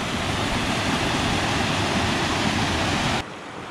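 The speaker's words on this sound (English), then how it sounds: "Wow, look at this waterfall." Waterfall along the Beara Way walking route in Ireland: a loud, constant broadband roar of rushing water close by that drops abruptly near the end.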